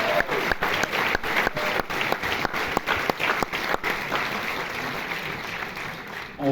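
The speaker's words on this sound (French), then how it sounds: "applaudissez-la aussi" A festival audience at a film screening presentation claps steadily, a dense wash of applause with sharp individual claps standing out, fading slightly toward the end.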